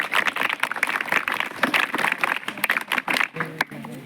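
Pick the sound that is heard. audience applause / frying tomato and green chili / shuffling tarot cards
audience applause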